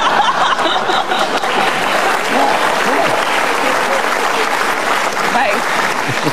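Applause from an audience in a TV studio during a talk show: loud, sustained clapping with scattered chuckles from the crowd, continuing unbroken and filling the whole stretch.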